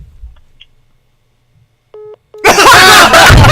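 A telephone dialing for a prank call: near silence, then two short electronic tones, followed by a sudden loud burst of noisy commotion with voices.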